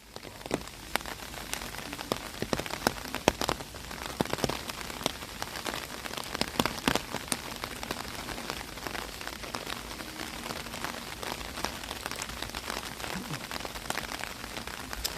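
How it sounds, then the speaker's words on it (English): Rain falls steadily on surfaces outdoors in a park in Japan, a dense, close patter of drops with occasional sharper taps, continuous for the whole stretch with no talking. "The rain is actually probably a pretty big part of it."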